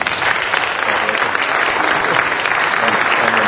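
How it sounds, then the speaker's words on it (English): At a Los Angeles city council meeting, the chamber breaks into brief, dense applause that stays even and fairly loud for a few seconds, with no speech over it. "Please give Mr. Rich a round of applause."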